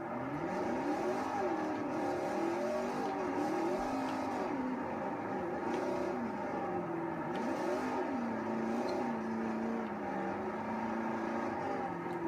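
A car engine in Forza Motorsport 4, drifting in a match on the Fujimi Kaido course, whines and warbles continuously as revs rise and fall in repeated sweeps, steady and close throughout with no talking.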